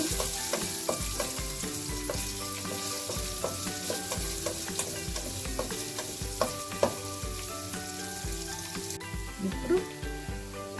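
Two small onions with tempering spices frying in a pan for a Telugu amaranth-leaf fry, a constant close sizzle broken by repeated scraping stirs of a spoon, with faint voice at times.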